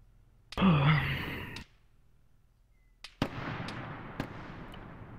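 Sharp gunshots in a video game: a few sudden cracks with short decaying tails, close and loud, after a breathy vocal sigh at the start.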